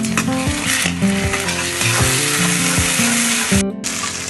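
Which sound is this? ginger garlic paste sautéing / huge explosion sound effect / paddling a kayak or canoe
ginger garlic paste sautéing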